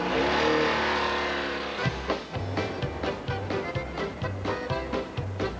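A Trabant, the small East German car built from compressed cotton and plastic with a tiny lawnmower-like engine, heard driving: a buzzing engine note, then a series of rhythmic revs and bumps close by, with no talk.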